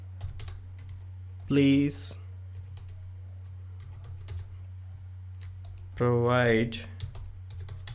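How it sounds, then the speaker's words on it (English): Rapid, irregular clicks of typing on a computer keyboard run throughout over a steady low electrical hum, with two short bursts of a voice speaking in between. "So I am typing here"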